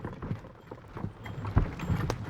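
Horse hooves clip-clop steadily as a horse and carriage carries hunters along a track through a Romanian forest, the uneven beats near and moderately loud with a couple of sharper strikes.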